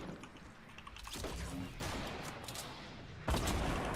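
Gunfire in a shooter video game when a sniper finishes off an opponent: sharp, loud shot bursts with rumbling tails, one strong blast near the end, with a voice talking over parts of it.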